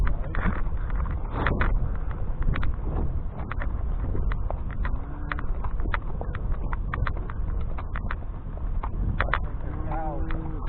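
Horse hooves clip-clop steadily on a cattle drive, a continuous rhythmic plodding close by under wind noise, with people talking over it.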